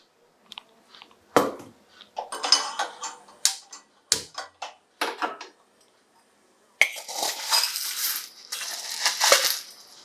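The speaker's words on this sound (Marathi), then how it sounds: "सुरवें आमी चणे दाळ भाजूया." A cup of chana dal dry-roasting in a pan, the grains stirred in short, irregular bursts of close rattling and scraping, then a longer, denser stretch of clatter toward the end. No voices.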